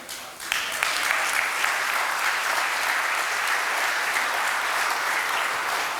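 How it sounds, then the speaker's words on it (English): A crowd at a university pastoral address breaks into loud, sustained applause, dense clapping swelling quickly and holding steady throughout. "That is worth clapping about"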